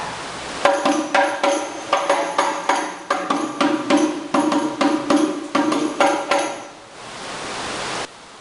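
A hadroh frame drum plays the basic pukulan biasa stroke pattern and moves into the pukulan naikkan pattern, with rapid close hand strikes in a driving rhythm that stop near the end, leaving a brief hiss.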